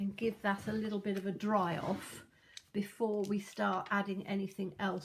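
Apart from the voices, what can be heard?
No everyday noises stand out.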